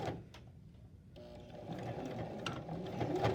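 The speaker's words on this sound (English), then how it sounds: "you're gonna sew right over that cord holder" Domestic sewing machine stitching steadily over a backpack's plastic cord holder, a continuous close mechanical whir with a slight labored change as the needle crosses the thicker piece.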